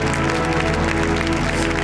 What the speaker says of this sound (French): Si on peut applaudir ces personnes qui ont pris ce choix